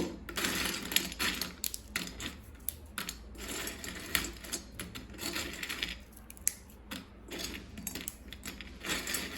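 Brittle crackling and snapping as crisp fried pepper karasev is broken apart by hand, close up and continuous, with no talking.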